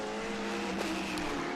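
Yellow Corvette race car, the number 02 in Trans Am qualifying at Virginia International Raceway, its engine droning steadily at a distance with a brief tire-squeal-like accent midway.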